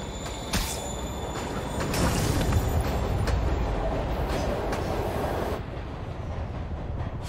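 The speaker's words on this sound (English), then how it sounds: "Train's moving." A moving train in the Marvel's Spider-Man video game, a loud rumbling roll with rail clatter and a few sharp metallic clanks, swelling and then easing off near the end.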